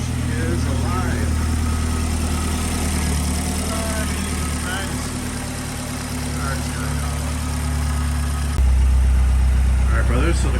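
A Mazdaspeed 3 engine, just fitted with a Damond Motorsports PCV plate, idles steadily and close up with a deep low hum, rising louder near the end while people talk over it.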